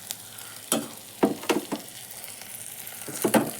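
Tomatoes sautéing in a pan as ground coriander, chili and turmeric powders are stirred in, giving a soft steady sizzle broken by a few sharp scraping stirs, close by with no talk.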